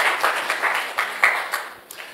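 A church congregation claps steadily in a brief burst of applause for the praise and worship team, with no voices over it.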